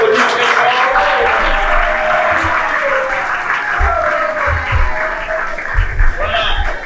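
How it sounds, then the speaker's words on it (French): A school audience at an educational session applauds loudly and steadily, with a few low thumps and some voices mixed into the clapping. "Monsieur le préfet, on peut applaudir très fort."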